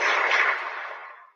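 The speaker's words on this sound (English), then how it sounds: "Gunshot for DW." A single gunshot sound effect plays as one loud, close crack that swells into a broad hissing boom and fades away over about a second, with no other sound.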